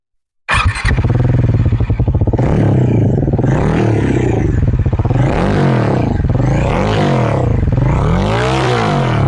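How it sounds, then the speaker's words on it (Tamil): A Bajaj Pulsar NS400Z motorcycle starts abruptly and holds a loud, close exhaust note, revving up and down in repeated swells over about nine seconds with no talking. "இப்போ நம்ம எக்ஸாஸ்ட் நோட்டோட சவுண்டு கேட்டுடலாமா?"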